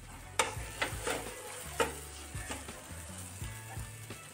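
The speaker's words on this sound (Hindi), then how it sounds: "अब इसमें हम ये धनिया डालेंगे और इसे और अच्छे तरह से मिक्स कर लेंगे।" Egg bhurji with freshly added coriander gets stirred in a pan, soft sizzling under repeated scraping strokes and knocks that land roughly every half second.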